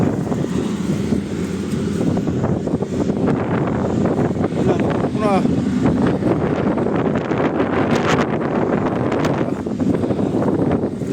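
Afternoon sandstorm in Saudi Arabia: strong, steady roaring wind battering the microphone with constant rumbling gusts and rustle throughout, close and loud, no voices over the noise.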